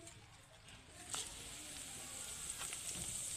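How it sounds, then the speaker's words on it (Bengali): Bay leaf, dried red chillies, whole garam masala and cumin fry lightly in a little oil. The sizzle is faint and soft, with a few small pops and crackles and no talking. "হালকা একটু ভাজা ভাজা করে নিচ্ছি"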